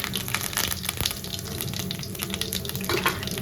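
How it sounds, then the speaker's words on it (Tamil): Mustard seeds and cumin spluttering in hot oil for a quail egg gravy, a dense continuous crackle and sizzle with scattered sharp pops, close and fairly loud throughout, with no talking. "கடுகு சீரகம் நல்லா பொரிஞ்சு வரட்டும். நல்லா பொரிஞ்சு வந்துட்டு இருக்கு."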